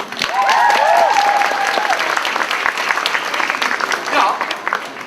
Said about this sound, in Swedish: En stor applåd domare.